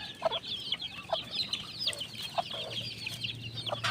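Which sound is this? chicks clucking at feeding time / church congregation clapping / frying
chicks clucking at feeding time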